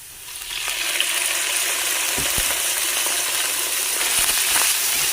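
Pork frying in a pan with garlic, onion and ginger, a loud steady sizzle with a few clinks of a utensil against the pan, no talking.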